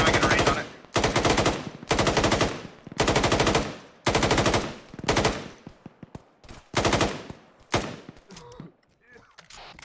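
Rapid automatic gunfire from the video game Synthetik, loud and close, in repeated long bursts with short gaps that grow choppier and fade toward the end.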